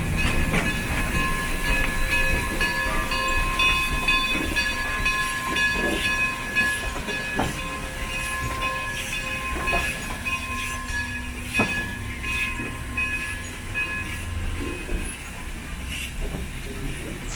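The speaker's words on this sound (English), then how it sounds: "As the engine backs in and couples to the train cars" Durango and Silverton narrow gauge steam locomotive backing in to couple to its cars: continuous steam hiss with metallic clanks and squeals, a few clicks of wheels and couplers, close by under faint voices.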